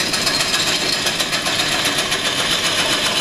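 A wood lathe spins a platter blank, giving a dense, steady whir and hum, loud and close, with a faint rhythmic pulsing and no voices over it.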